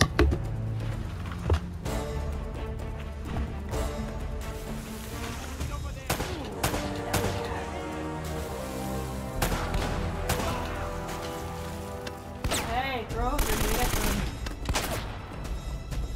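Rapid bursts of gunfire from the video game Uncharted: Drake's Fortune, loud and dense through much of the clip with game music and sound effects underneath, and a voice talking at times.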